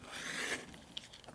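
A rotary cutter slices through cotton quilt block fabric on a cutting mat, a soft close rasping swipe that fades into quiet handling noises.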